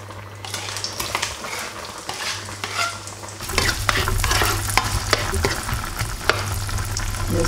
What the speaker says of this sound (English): we're gonna to add the big onion, garlic, and rosemary in the pan.